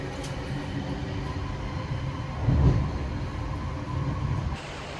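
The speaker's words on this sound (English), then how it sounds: "That's my train there." A commuter train draws in at a rainy Blue Mountains station on the Katoomba line, with a steady rumbling roll, a brief louder surge of wheels and brakes midway, then a quieter settling as it stops.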